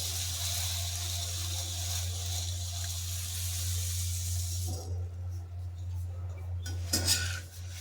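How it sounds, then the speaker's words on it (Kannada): Puffed rice added to a pan of fried spices and garlic, heard as a steady hiss that gives way to a few light rustles and clinks of utensils against the pan. "ಈಗ ಮಸಾಲೆ ಫ್ರೈ ಆದಮೇಲೆ ಇದಕ್ಕೆ ಕಡಲೆಪುರಿನ ಸೇರಿಸ್ತಾ ಇದ್ದೀನಿ"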